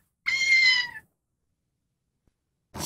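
A recording of a cat played back gives one clear, drawn-out meow, close and fairly loud, followed by silence and the start of a second sound at the end.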